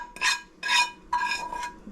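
Stirring butter into a pot of beef stew, three bursts of scraping and clinking of a utensil against the pot, close and clear, with short pauses between.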